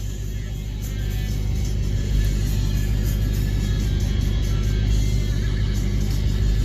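The modified exhaust of a 2020 Dodge Challenger Hellcat Redeye drones as a deep, steady rumble from inside the cabin while cruising, the low roar holding constant and close without sharp revs.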